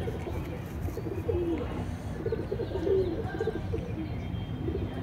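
Pigeons of the madrasi breed coo softly in a loft, with two or three low rolling calls over a steady background murmur.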